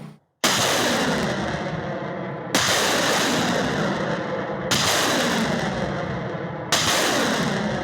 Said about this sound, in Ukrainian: Після коригування на голови окупанта мчить залп градів.